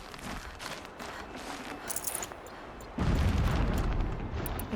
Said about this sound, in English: Explosions in the distance.